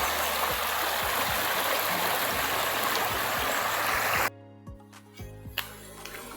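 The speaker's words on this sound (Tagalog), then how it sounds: "Napakaganda ng ilog." A river rushes loudly and continuously with a dense broadband roar for about four seconds, then it cuts away to quieter gurgling water with a few soft knocks and drips.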